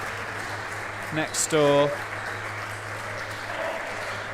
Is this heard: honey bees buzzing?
no